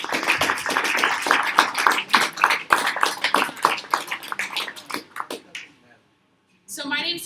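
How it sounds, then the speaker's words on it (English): Audience applause for panelists at a Greentown Labs battery panel in March 2017: brisk, crowded clapping for about five seconds that fades to silence, then a voice begins speaking. "give them a warm round of applause"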